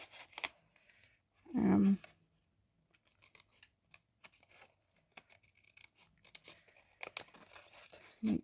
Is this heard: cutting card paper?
yes